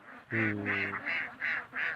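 Khaki Campbell ducks quacking in a series of five nasal calls, close and fairly loud, evenly spaced with brief pauses between.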